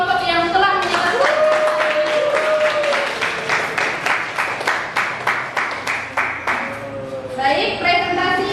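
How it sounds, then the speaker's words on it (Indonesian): Classroom clapping for student groups after an exercise, with a brisk run of individual claps in a regular rhythm, moderately close, framed by voices talking before and after. "tepuk tangan buat kelompok yang telah menyelesaikan."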